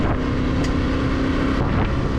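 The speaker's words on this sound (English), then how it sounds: "This HP Corsair exhaust sounds fantastic off-road too" A Yamaha Tenere 700 motorcycle fitted with an HP Corsair exhaust is being ridden on a main road, its engine droning steadily under loud wind rush with a brief rise in tone.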